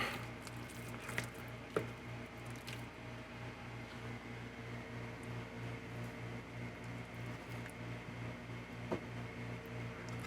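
A spatula spreads wet Sculptamold on a model railroad layout, making soft, quiet squishing and scraping strokes over a low background hum.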